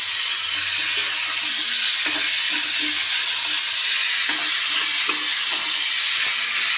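Potatoes, brinjal, flat beans and chopped garlic fry loudly in a kadai, a dense continuous sizzle with intermittent scraping stirs, no talk.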